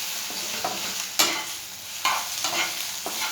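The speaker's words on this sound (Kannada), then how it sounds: "1 ಟೀ ಸ್ಪೂನಷ್ಟು ಎಣ್ಣೆ ಹಾಕ್ಬಿಟ್ಟು ಚೆನ್ನಾಗಿ ಫ್ರೈ ಮಾಡಬೇಕು, ಕಲರ್ ಬರೋ ಗಂಟ." A teaspoon of oil fries food in a pan with a soft steady sizzle, punctuated by a few sharp stirring scrapes, close and alone.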